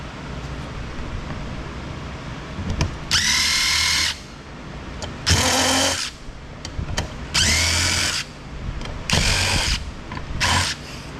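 Bursts from a power drill driving with a DeWalt bit set while scrapping e-waste, five loud whirring runs of about a second each separated by short pauses and faint handling noise.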